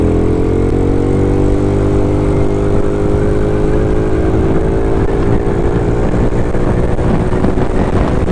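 A Yamaha Mio scooter with a newly replaced carburetor runs close by at a steady, loud idle, its buzzing engine note holding evenly without a break and rising slightly in pitch.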